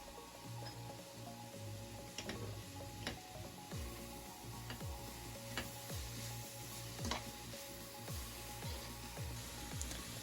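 Tomato paste frying in a pan for Ukrainian borscht, stirred with repeated soft scraping taps over a faint, steady sizzle, quiet and close with no talking.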